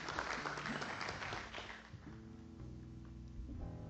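Church congregation applauding during a Portuguese-language worship service, a dense wash of clapping for the first two seconds that thins as sustained organ or keyboard chords rise underneath.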